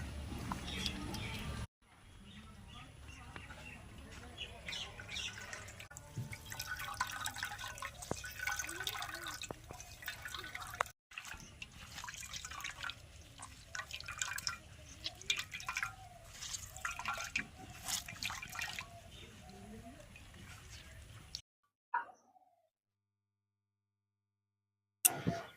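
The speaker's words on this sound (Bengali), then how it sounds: "আবার আমি ছেঁকে নেব, সব একবারে দিয়ে ছেঁকে নেব।" Jackfruit juice drips and trickles into a vessel as it is strained for making jackfruit jaggery. Soft, irregular droplets fall over a quiet background, with the sound cutting out briefly near the end.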